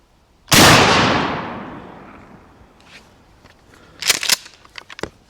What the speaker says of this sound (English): All right, so first shot, slug. It's a 2 3/4 inch.